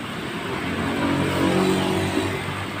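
A motorcycle engine with fuel injection runs steadily during an injector test, a continuous mid-pitched idle with a slight swell in the middle, close and alone without talk.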